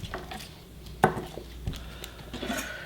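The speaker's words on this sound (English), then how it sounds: "just very carefully use the tip of your knife to separate the florets from the core" The tip of a kitchen knife pries cauliflower florets from the core, giving a few faint, close scrapes and soft knocks, with one sharper tap against the board.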